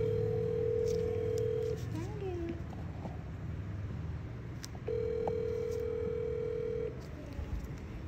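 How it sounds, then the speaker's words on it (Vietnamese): Two long, steady ringback tones from a phone while a call is placed, each about two seconds, heard over room noise and voices talking in the background. "Cầm điện thoại lên luôn rồi gọi anh gọi luôn đi"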